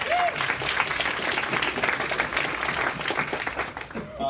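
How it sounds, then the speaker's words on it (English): Audience at a festival panel claps in a steady burst of applause, fairly close and dense, lasting the whole stretch without talk over it. "Next to you may clap."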